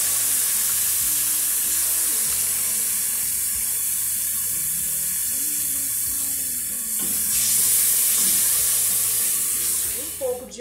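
Tomato sauce sizzles loudly in a pan with sautéed onion and garlic, a dense continuous hiss that swells partway through as it is stirred, with a clatter at the very end.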